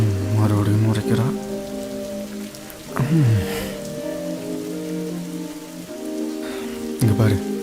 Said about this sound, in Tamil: இங்கே பாரு, மழை வேற வருது